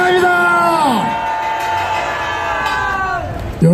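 A rally crowd at a Daegu Taegukgi gathering raises a sustained, loud cheer, many voices shouting and holding long tones together, with a single voice rising near the end.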